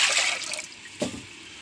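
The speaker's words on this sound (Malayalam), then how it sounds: "വെള്ളം ഒഴിക്കണം" Water splashes into a cooking pot of lentils for sambar with a bright rushing pour, tapering off, then a brief clunk and a few settling drips.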